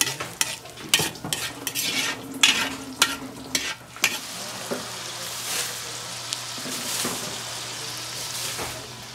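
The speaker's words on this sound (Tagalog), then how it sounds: "Igisa na natin ang ating bawang." Garlic being sautéed in a pan, with scraping stirs and utensil knocks over an oily sizzle. Clattering stirs fill the first few seconds, then a steadier frying hiss continues up close, no talking.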